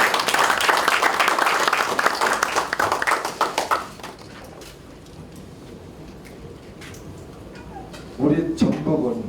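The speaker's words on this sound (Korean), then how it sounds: "우리 최고위원님 위해서 박수 한번 쳐주실까요?" Supreme council members of a party at a Jeonbuk field meeting receive a burst of audience clapping that fades out after about four seconds, followed by quiet and then someone speaking.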